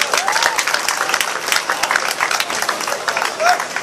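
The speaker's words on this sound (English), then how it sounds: "give him a round of applause" Audience applause and cheering at a church gathering, dense steady clapping close by with a voice calling out over it.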